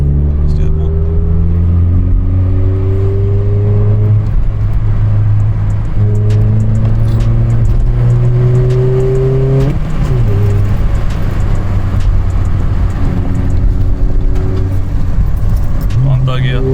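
VW Polo 1.4 with a sports exhaust and deleted back box, loud and close from inside the car as the engine revs up and shifts through several gears in rising sweeps, with people talking and cheering over it.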